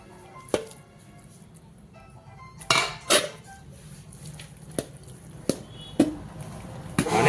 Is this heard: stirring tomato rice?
yes